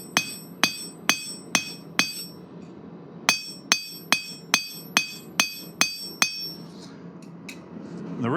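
A blacksmith strikes metal with a cross peen hammer, giving two runs of sharp ringing blows, five then eight, at a steady roughly half-second rhythm with a brief pause between.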